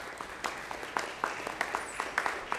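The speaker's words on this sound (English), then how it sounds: "Let's give him a big round of applause." Scattered claps from a church congregation at Mass, a sparse rhythm of individual hand claps rather than a dense ovation, moderately loud in a reverberant room with a faint murmur underneath.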